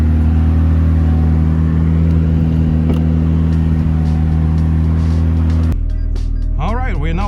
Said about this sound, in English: we're gonna jump in the 600 LT and go for a quick drive in Beverly Hills